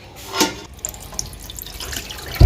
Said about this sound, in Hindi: गोश्त को छान लेंगे और खड़े मसाले हमने सब निकाल लेने हैं